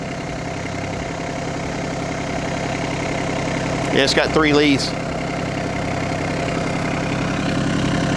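A compact tractor used for clearing land idles with a steady low, chugging engine drone throughout, close and continuous, while a person speaks briefly over it midway.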